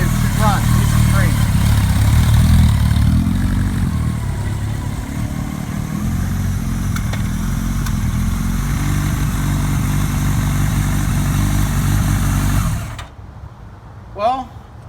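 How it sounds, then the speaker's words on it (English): A 1980 Kawasaki KZ1000 LTD motorcycle with carburetors and a Kerker exhaust runs strong at close range, a loud steady engine drone that holds for about thirteen seconds before cutting off, followed by near silence and a short faint sound. "But man, does this bike run strong with those carburetors and that Kirker."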